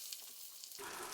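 Butter going into hot caramel in a pan and being stirred gently, a faint sizzle that swells suddenly into a louder bubbling hiss partway through.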